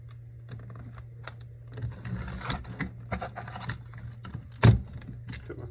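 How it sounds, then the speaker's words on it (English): An arrow wrap for a traditional hunting arrow is cut, producing a few light, crisp clicks and snips close by, including one sharper cut near the end, over a faint steady hum. "Cut my first wrap."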